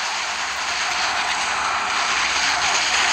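A drone flying in the mobile shooter game Dead Target gives a steady, loud, airy engine roar, a continuous whooshing drone with no speech over it.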